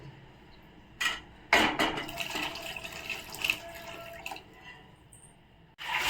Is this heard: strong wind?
no